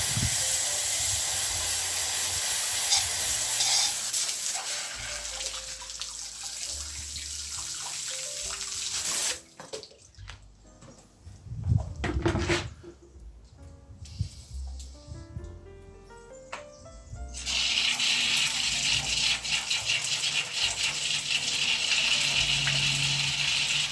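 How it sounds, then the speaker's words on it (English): Water rushes in a steady, loud hiss as it is flushed through the tube-like handle of a Vevor paint sprayer. The flow breaks off midway into quieter clatter and gurgling, then resumes strongly. "The handle itself is just like a tube, so that can just be flushed through."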